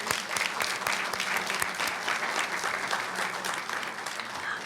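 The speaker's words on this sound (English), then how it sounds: "So let's give her," Steady, dense applause from the audience at a school board reception, many hands clapping evenly for the whole stretch without pause.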